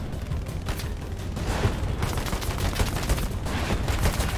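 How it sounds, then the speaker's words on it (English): Dense gunfire fills a World War II battle in the video game Hell Let Loose, with rapid overlapping rifle and machine-gun shots and distant booms, loud and continuous throughout. "Oh, he's shooting from under."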